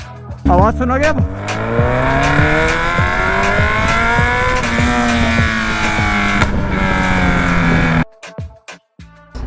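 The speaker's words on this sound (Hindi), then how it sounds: "मेरी बाइक है कावासाकी Z1000 और इसमें रखा है एरो का फुल सिस्टम एग्जॉस्ट" A Kawasaki Z1000 motorcycle fitted with an Arrow full-system exhaust roars loud and close, holding a sustained, rising rev with harmonic pitch sweeps before cutting off near the end into a few short blips.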